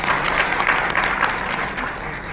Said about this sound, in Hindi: आई थिंक ताली बजनी चाहिए हमारी टीम के लिए।